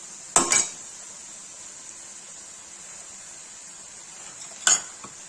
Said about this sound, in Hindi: अब देसी घी साथ भूनेंगे।